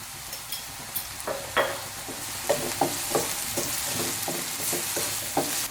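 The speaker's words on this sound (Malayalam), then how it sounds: "സവാള ഇട്ട് കൊടുത്തതിന് ശേഷം ഞാൻ ഹൈ ഫ്ലെയിമിൽ തന്നെയാണ് വെച്ചിരിക്കുന്നത്" Onions fry on high flame in a pan with a continuous loud sizzle, broken by a run of rhythmic scraping stirs, close up and with no talking.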